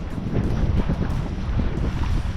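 Steady wind rushes and buffets across a sailboat running under sail with its engines off, a loud, continuous roar with water faintly underneath and no voices.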